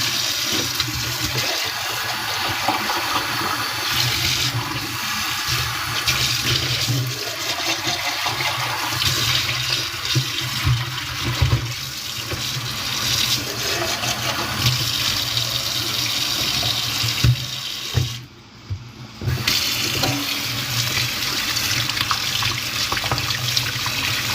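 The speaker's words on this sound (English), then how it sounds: "I'm going to dump it in the strainer right here. Wash this out." Steady running water from a kitchen tap pouring over food in a strainer, a constant loud rush that continues almost unbroken with one brief dip near the end.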